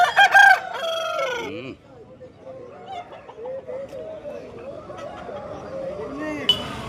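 A rooster crows loudly and close at a Vijayawada poultry market, a long harmonic call in the opening seconds, followed by a busy market murmur of voices, clucking and a brief sharp sound near the end.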